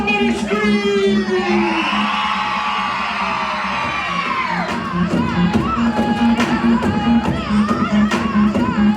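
A festival crowd screaming and cheering at a live stage show, loud sustained whoops and yells swelling then breaking into scattered shouts, with a voice and music running underneath.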